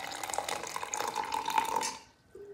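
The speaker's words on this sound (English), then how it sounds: "you have to mix it with warm water" Warm water pours steadily into a mixture of ingredients, a continuous close splashing stream that cuts off near the end.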